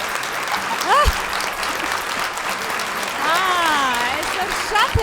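An audience at a talent show semifinal claps in sustained applause, with whistles and cheers rising over the crowd noise.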